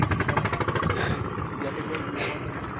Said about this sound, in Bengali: এই ট্রলারের আওয়াজটা শুনলে আমার দেশে চলে যাই মনে যে আওয়াজ